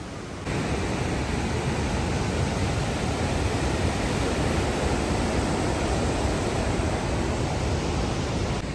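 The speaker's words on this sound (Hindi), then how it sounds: "इस वाटरफॉल का नाम है नमलन वाटरफॉल।" Namblan waterfall in Sheeri, Baramulla, roars with rushing water, a dense, loud, unbroken wash of noise that kicks in after a brief quieter start and stays constant.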